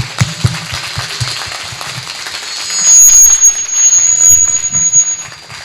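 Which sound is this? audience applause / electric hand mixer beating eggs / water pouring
audience applause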